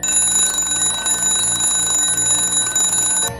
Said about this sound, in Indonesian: suara alarm yang bagi manusia normal sangat menyakiti telinga jika tidak lekas dimatikan